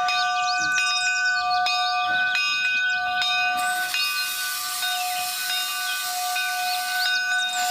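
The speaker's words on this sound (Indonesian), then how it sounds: "ini lokomotif kereta api teman-teman" A toy steam locomotive sounds off with steady whistling tones and a hissing steam noise, continuous and fairly loud, with brief clicks early on.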